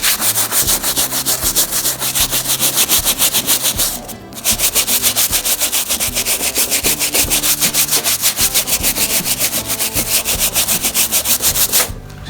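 Sneakers being scrubbed with soap to work up suds give a loud, rapid back-and-forth rubbing rhythm that runs almost nonstop, pausing briefly once before resuming at the same brisk pace.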